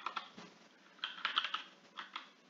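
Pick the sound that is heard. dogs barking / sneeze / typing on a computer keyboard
typing on a computer keyboard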